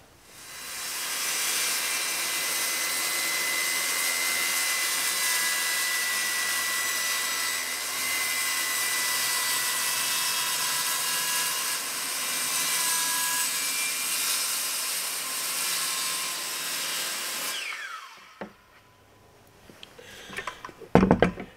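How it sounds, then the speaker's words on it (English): A circular saw cuts a curved line through plywood for a boat bulkhead, giving a loud, steady whining roar for about seventeen seconds before it winds down, followed by a few clatters. "of you are probably wondering why I'm using a skill saw to cut a curved line"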